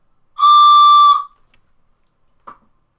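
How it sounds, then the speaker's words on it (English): A train whistle from a percussionist's sound-effect kit gives one loud, steady, multi-toned blast lasting nearly a second, followed by a brief faint tap. "Or this train whistle."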